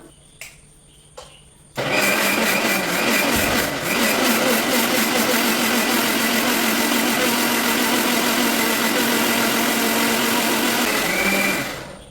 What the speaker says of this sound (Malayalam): നമ്മൾ ഈ മിക്സിക്കകത്ത് വെച്ചിരിക്കുന്ന അരപ്പെല്ലാം കൂടെ നന്നായിട്ട് നല്ല നല്ല വെണ്ണ പോലെ അങ്ങ് അരച്ചെടുക്കണം